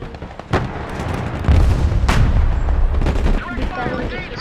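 Gunfire and artillery from the Broken Arrow video game: sustained rumbling booms and sharp cracks, with a loud burst of fire at the midpoint, dense and continuous beneath faint voices.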